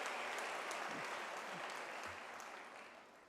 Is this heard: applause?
yes